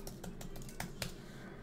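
Typing on a computer keyboard, a quick run of about eight soft, close key clicks at an uneven rhythm, then quiet.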